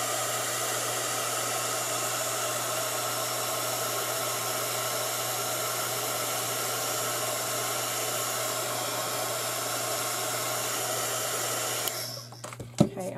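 A hair dryer drying paint blows loudly and steadily nearby with a constant airy roar and low hum, then cuts off near the end, followed by a few faint knocks.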